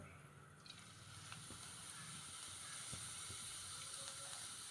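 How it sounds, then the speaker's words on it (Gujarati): Whole cumin seeds sizzle in hot oil for a village-style ridge gourd dish, a steady, close hiss with scattered small crackles and no voices. "તેલ આવી ગયું હવે પહેલાં નાખીએ જીરું આખું"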